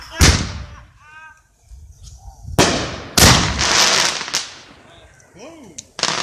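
Loud firework bursts outdoors after a lit fuse, several sharp cracks and booms with a long crackling tail, voices and laughter between the blasts.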